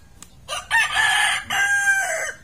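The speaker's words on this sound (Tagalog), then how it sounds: "Sabay tilak ng manok" A rooster crows in two long, loud calls at close range, each rising and then holding steady, heard outdoors in a Filipino home kitchen setting where ginataang sikad is being cooked.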